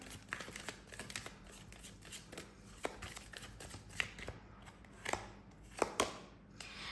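Tarot cards are shuffled and drawn close by at a soft level, with papery riffles and sharp snaps of cards landing at irregular intervals, no talk over them.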